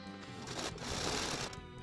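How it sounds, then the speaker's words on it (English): Home sewing machine running a straight stitch through cloth for a mask, a close, steady rapid whirring rattle that holds for under two seconds with no talking. "I put the sewing machine back onto it. I'm just using a straight stitch for this"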